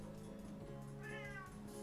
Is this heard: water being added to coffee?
no